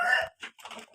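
A sick Bangkok gamecock gives rasping, labored breaths, one longer throaty rattle followed by two shorter wheezing bursts, close and clear with no talk.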